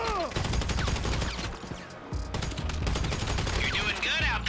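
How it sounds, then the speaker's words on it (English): Rapid suppressed Carbine Rifle Mk II fire in a video game, a close, steady rattle of muffled shots in quick bursts with a brief pause midway, mixed with game sounds and a voice over the top. "Every loadout needs a silence rifle, and there isn't many better than a carbine rifle Mark II"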